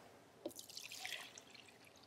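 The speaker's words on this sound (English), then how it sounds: "we're going to add about 8 to 10 ounces of almond milk" Almond milk poured into a blender for a smoothie, a quiet brief splash and trickle of liquid lasting about a second and a half.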